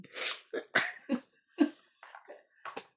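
A single sharp sneeze bursts out at the start, followed by a run of short breathy coughs, snorts and throat sounds, close to the microphone during a tongits card game.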